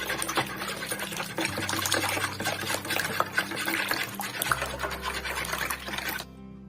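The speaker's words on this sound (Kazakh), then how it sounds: "Күнбағыс майды құйып, тағы да араластырамыз" A steady, busy mechanical whir fills the kitchen while eggs and sunflower oil are mixed into bun dough, constant and fairly close, then cutting off abruptly near the end; no talking.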